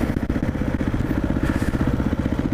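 A motorcycle engine with a failed clutch pump runs with a close, steady pulsing throb and light mechanical clatter, no voices heard.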